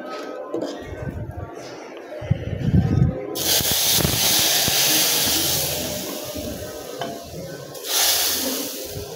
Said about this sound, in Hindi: तड़का लग गया जी तड़का।